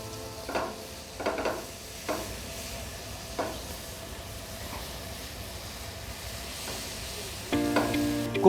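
Onion tomato gravy with kasuri methi, jeera powder and butter cooking in a pan over a medium flame, heard as a soft, low sizzle broken by a few spaced stirring scrapes, with a louder burst of clatter near the end.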